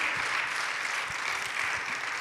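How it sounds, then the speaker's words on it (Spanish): A congregation at a Spanish-language evening church service claps together in a steady, fairly faint wash of applause that holds evenly throughout, with no voices over it. "Denle un aplauso al Señor, pero házelo con ganas."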